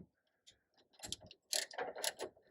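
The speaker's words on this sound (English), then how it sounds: "That's a ratchet." A ratchet wrench turning a bolt gives bursts of quick, close clicking in irregular runs that grow louder and denser toward the end.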